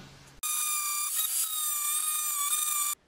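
An angle grinder cuts the heads off fasteners holding a disc rotor on an electric chopper hub, producing a loud, steady high-pitched whine of about two and a half seconds that starts and stops abruptly.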